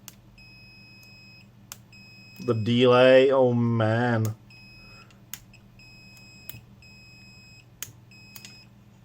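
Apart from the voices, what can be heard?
multimeter continuity beep when probes are shorted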